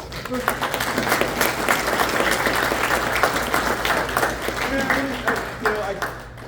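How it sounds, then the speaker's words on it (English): Applause from an audience at a 30th anniversary event of the Vatican Advanced Technology Telescope, a dense steady wash of clapping lasting several seconds, fairly loud, with some voices mixed in underneath. "You can skip all the applause stuff"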